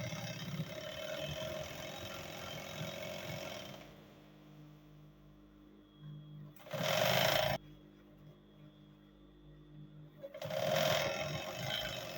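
A sewing machine stitches a side seam on cargo pants in bursts: a long run of rapid chattering, a quiet pause, then two shorter loud runs close by.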